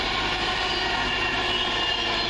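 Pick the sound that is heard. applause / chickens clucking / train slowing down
train slowing down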